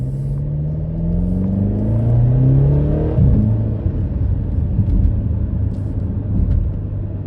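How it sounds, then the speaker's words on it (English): BMW X5M engine pulling hard on a winding road, a steady rumbling drone that rises in pitch through the gears with one clear shift midway, close and loud, with the quiet exhaust barely standing out. "you mostly get like engine noise because the exhaust is so quiet"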